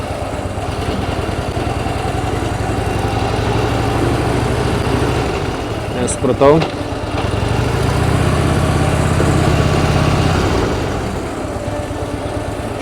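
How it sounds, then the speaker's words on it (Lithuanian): A Harley-Davidson motorcycle engine runs at low speed, a loud, steady, close rumble that swells and eases over several seconds, with a brief spoken word in the middle. "Šitas motociklas nepripratęs prie važiavimo taip lėtai."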